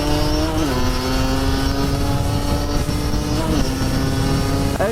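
A car driving past on a road, heard as a loud, steady engine drone that holds close throughout, with a couple of brief pitch drops as it shifts or moves by.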